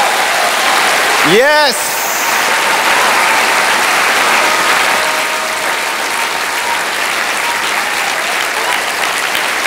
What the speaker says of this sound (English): will you give him another big hand clap and a shout?